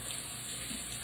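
Running tap water rinsing a Saladmaster machine cone, a steady soft hiss of flowing water at the sink, continuous and fairly faint throughout.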